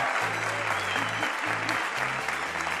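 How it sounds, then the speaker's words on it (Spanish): Audience applause for the 24 Miss Venezuela contestants at the pageant opening, a dense wash of clapping heard under loud pulsing music. "Quiero que en primer lugar le brindemos un aplauso a las 24 aspirantes que compiten esta noche por la corona"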